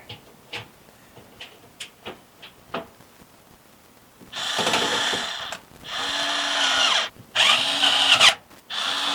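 A power screwdriver drives screws into a computer power supply during a PC build, with a few light clicks and taps first, then three loud, close whirring bursts of a few seconds each.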